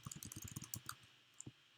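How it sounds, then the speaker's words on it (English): Quiet keystrokes on a computer keyboard, a quick run of soft clicks for about a second followed by a couple of isolated taps, close and alone with no talking. "if I were to type something"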